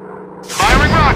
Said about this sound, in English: Firing rockets. Target up in flames.